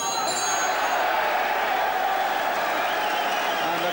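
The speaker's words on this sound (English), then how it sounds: "And the crowd absolutely love this." Boxing arena crowd applauding and cheering for an amateur fighter from a Dublin club, a dense continuous roar of clapping and voices filling the space at steady loudness.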